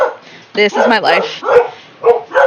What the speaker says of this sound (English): I am so sorry for my dogs.